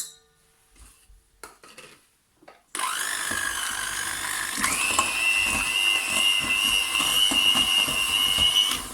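Electric hand mixer whirring steadily as it beats sugar, vanilla and other ingredients for a strawberry Speculoos no-bake cake, starting abruptly after quiet handling noises, with rattling beater clatter against the bowl throughout.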